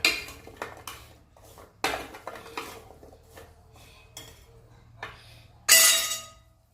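Garlic fry with black salt being mixed in a pan, a series of close metal spoon scrapes and clinks against the pan in irregular strokes, ending with one louder clattering knock.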